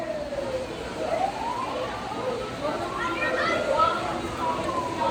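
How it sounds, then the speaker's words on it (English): A wailing siren from a model fire engine pulling out of its station on a large model train layout, rising and falling continuously through the clip, with a voice talking over it. "Here comes the fire engine coming out of the fire station. The door has gone up. Here it comes. Look at that. The sirens are going off."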